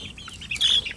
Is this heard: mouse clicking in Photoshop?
no